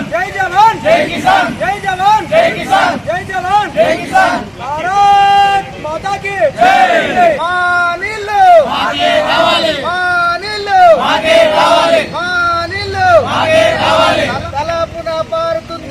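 Loud crowd at a BJP protest sit-in outside a tahsildar office, a mass of overlapping voices and shouted slogans going on steadily throughout, with no single speaker standing out.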